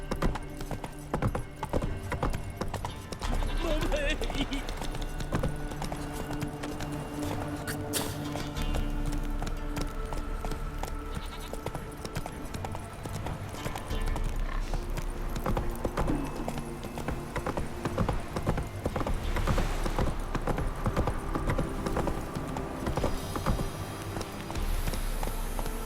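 Horse hooves gallop with a steady, rapid clip-clop rhythm in The Witcher 3 video game, loud and continuous, layered over game music and ambient sound.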